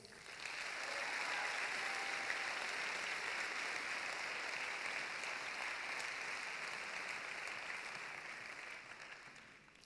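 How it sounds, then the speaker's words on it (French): Steady applause fills a graduation ceremony hall, a large audience clapping continuously for nearly ten seconds, swelling quickly and then easing slowly toward the end, with no voices standing out. "Je vous demande d'applaudir Gaëlle Géano."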